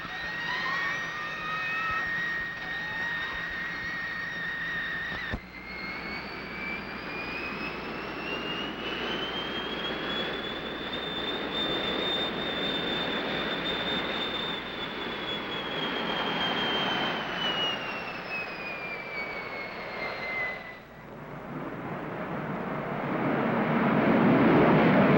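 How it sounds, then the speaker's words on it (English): A 1953-era jet aircraft makes a flyby with its afterburner lit, a loud sustained roar with a rising then falling whine as it passes close, cutting off sharply before a broad rumbling surge. "we're going to fly by with the afterburner on"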